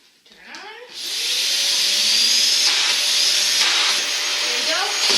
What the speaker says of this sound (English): Now I'm going to go ahead and vacuum it all up.